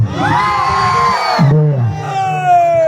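An audience at a live stage program shouts and cheers loudly in rising bursts, with several voices yelling close together at full volume.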